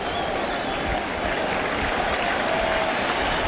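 Stadium crowd at a Mets home game against the Astros, with Pedro Martinez on the mound, a steady broad roar of cheering and applause holding at a constant, dense level throughout.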